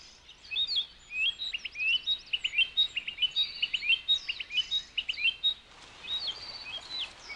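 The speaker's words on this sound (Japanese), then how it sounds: "命あふれるこの森で子育てをする夏鳥たちです。" Summer birds raising young in an Asian forest sing in repeated high, bright chirps and trills, moderately near and overlapping, with no voices.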